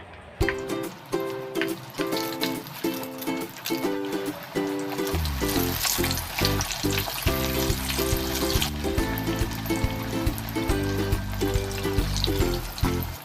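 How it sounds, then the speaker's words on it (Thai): Eggplant frying in hot oil for a Thai shrimp-paste chili dip meal, with a steady bright sizzle throughout and loud, close, alone, over a rhythmic musical backing. "อันนี้เราจะทอดมะเขือนะคะ"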